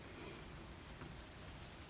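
Rain falls steadily outside a children's plastic playhouse used as a dog house for a Newfoundland dog, a soft even broadband patter with no voices.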